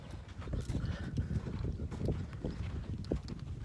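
A horse close by, its hooves clopping and thudding in an uneven rhythm over a steady wind-like rustle, with no talking.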